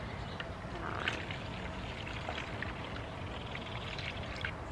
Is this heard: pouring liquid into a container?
yes